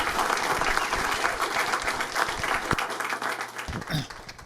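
A crowd applauds steadily for a guest at a museum rodeo night, with dense, even clapping throughout and a few louder thumps near the end as it begins to taper.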